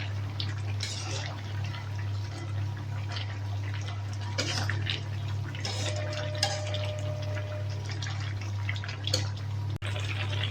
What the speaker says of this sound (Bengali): মাছ দিয়ে 5 মিনিট ফুটিয়ে নেব।